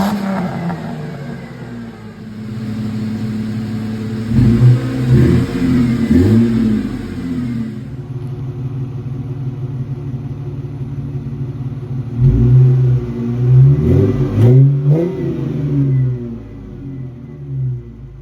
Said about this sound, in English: So we'll do a little before and after exhaust clip of what this car sounded like and what it sounds like now.